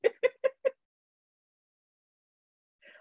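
Pet chickens at home give four quick clucks in a row, loud and close, then a short fainter cluck comes after a long pause.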